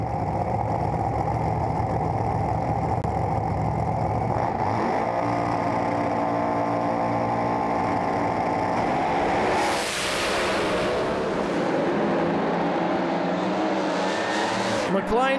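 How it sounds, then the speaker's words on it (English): Pro slammer drag racing cars at the Winternationals, Willowbank Raceway, roar loudly and continuously, engines building revs and then sweeping through a rising surge as they launch down the strip. "The revs will be high very soon."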